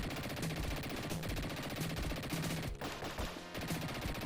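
A Tommy gun fires in rapid, continuous bursts in the Sega Genesis game Dick Tracy, a loud, dense rattle that runs through the clip alongside game music.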